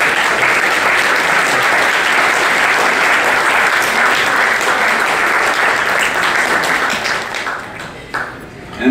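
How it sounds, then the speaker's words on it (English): Loud, dense applause from a large crowd at an NAACP Freedom Fund banquet in Stockton, sustained and close, then thinning and dying away in the final second. "please give a round of applause as we bring forward Mr."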